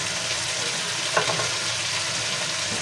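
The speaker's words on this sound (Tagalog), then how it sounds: "At ilalagay na po natin yung ating chicken." Chicken pieces hit a hot pan and fry in a constant, loud hissing sizzle, with a small clatter of stirring partway through.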